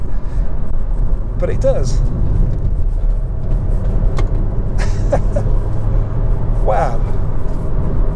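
Audi A3 Sportback driving hard through corners on a B road, a steady road and engine rumble heard from inside the cabin under a man's brief spoken remarks.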